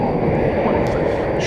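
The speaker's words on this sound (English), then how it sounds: "United 1564 is off to Chicago O'Hare. It's an Airbus A319. There it goes." A United Airbus A319 takes off at night from DFW Airport bound for Chicago O'Hare, its jet roar a steady, broad rumble lasting throughout, with a voice talking over it.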